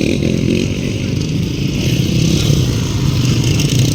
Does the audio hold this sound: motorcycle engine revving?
yes